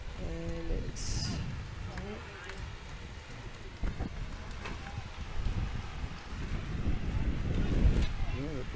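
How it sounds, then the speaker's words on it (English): Breeze gusting across an outdoor lawn bowls green during a women's state singles championship, a broad rushing wind noise that swells and buffets the microphone, growing stronger toward the end, with a voice talking over it. "the breeze gusts up again, as you can hear"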